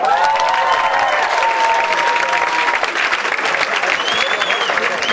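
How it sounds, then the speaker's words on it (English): A comedy club audience at a stand-up night claps and cheers for a comedian, a loud, sustained burst of applause with whistles and shouts, evenly dense across the few seconds. "Ladies and gentlemen, a huge cheer, round of applause."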